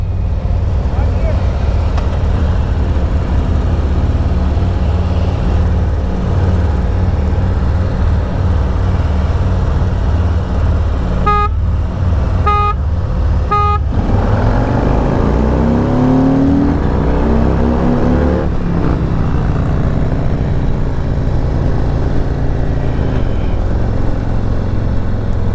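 A completely stock motorcycle with a 114 engine pulls away in second gear, its loud steady engine roar rising in pitch as it accelerates and shifts, close and dominant throughout.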